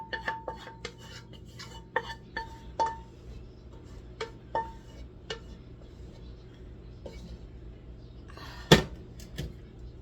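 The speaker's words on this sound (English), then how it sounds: "I'm going to dump this pan of cheese sauce into that." A big pan of homemade cheese sauce being tipped into a large pan of macaroni, with scattered metallic clinks and scrapes of pans and utensils over a low kitchen hum, and one sharper clatter near the end.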